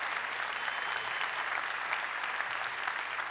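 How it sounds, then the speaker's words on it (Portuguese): A church congregation gives a sustained round of applause for a couple, an even, continuous wash of clapping heard at moderate distance without a break. "Vamos dar uma salva de palmas para esse casal maravilhoso."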